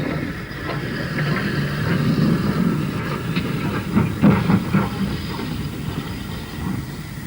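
Steam locomotive 75026, a double-chimney engine, moving off Tebay shed, giving a steady low rumble with faint rhythmic clanks and wheel noise, moderately loud throughout with no voices.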